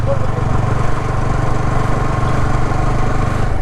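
Motorcycle engines of bikers heading out toward Keokradong rumble steadily at close range, a continuous low droning idle with no breaks, while a voice talks over it.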